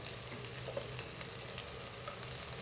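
Carrot, beans and potato sizzle steadily in a hot pan of oil for a potato fry, a continuous close crackle with faint stirring clicks and no voices.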